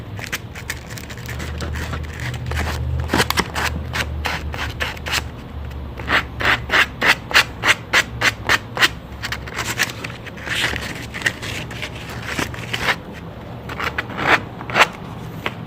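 An edge of a handguard tube is hand-sanded with 180 grit sandpaper, close by, in bursts of quick rhythmic rasping strokes with short pauses between sets.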